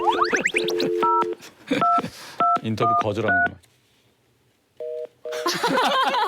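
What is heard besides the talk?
telephone dialing and call tone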